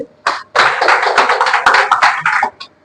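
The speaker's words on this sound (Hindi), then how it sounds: "ताली में कंजूसी मत कीजिए आप लोग" An indoor audience at an award ceremony during a company meeting claps loudly for a prize winner: a brief opening burst, then about two seconds of close, vigorous clapping that stops sharply.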